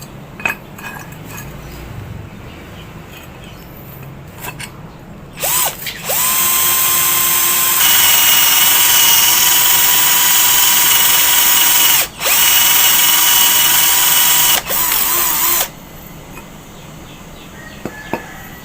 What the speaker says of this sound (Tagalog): Subukan natin butasin.